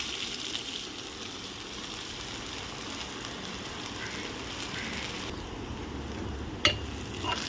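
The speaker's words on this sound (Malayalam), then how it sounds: "ഒരു അല്ലി വെളുത്തുള്ളി, ഒരു സവാള ചെറിയത് അപ്പോൾ ചോപ്പ് ചെയ്ത് നല്ലപോലെ ഒന്ന് മൂപ്പിക്കാം" Chopped onion and garlic with cumin frying in a pan for a lentil and drumstick-leaf curry, a steady close crackling sizzle throughout with an occasional sharp clink of a stirring utensil, no talk.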